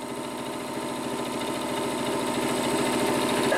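A Janome DC2014 computerized sewing machine runs fast with the foot pedal floored, a steady rapid needle chatter and motor hum that builds slightly in loudness, close and continuous with no talking.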